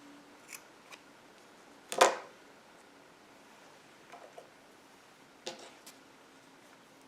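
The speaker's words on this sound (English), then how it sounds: "So I'm going to go ahead and trim the loose yarn ends." Scissors snip loose yarn ends from a crochet baby blanket, a few crisp, close cuts spaced across a quiet room, one louder snip standing out.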